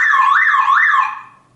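A Toyota Camry car alarm siren wails loud and close, its pitch sweeping up and down in repeated rising-falling cycles before cutting off and fading over the last half second.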